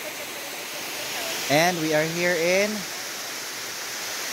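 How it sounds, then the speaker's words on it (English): Kanamantad Waterfall in Bohol, the island's tallest at about 60 meters, roars as a steady broadband rush throughout, with a person speaking briefly over the constant falling water. "The Kanamantad Waterfalls is the tallest waterfall in Bohol, measuring up to 60 meters in height."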